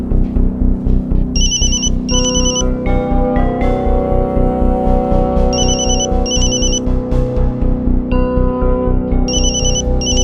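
A phone ringtone plays in repeated bursts of a bright electronic trill over steady background music, sounding close and clear.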